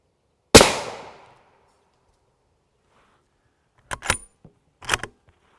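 A single sharp rifle shot from a 24-inch TC Compass fitted with a JK Armament kit, fired at a body armor plate outdoors, cracks loudly and decays, followed after a pause by two brief clattering metallic knocks.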